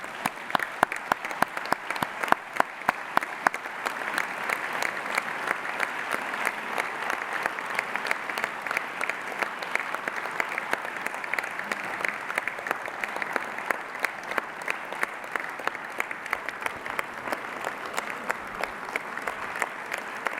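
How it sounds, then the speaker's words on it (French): An audience at a university academic opening ceremony applauds new academic staff, a steady, dense clapping that carries on for about twenty seconds without letting up, filling a large hall. "et on peut les applaudir"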